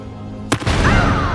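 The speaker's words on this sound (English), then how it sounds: "The explosions don't have that big of a range." A sharp, loud blast from explosive crystals in a film scene cracks out suddenly, followed by a rumbling, hissing debris wash that lingers, with a thin whistling tone sliding down underneath.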